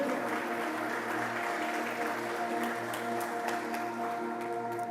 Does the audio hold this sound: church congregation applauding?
yes